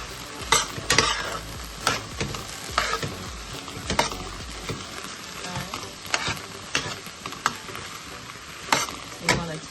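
Mackerel with okra, tomato and scallion is stir-fried and tossed in a pan, with a busy sizzle and frequent sharp scraping and clanking strokes, close and loud, no voices.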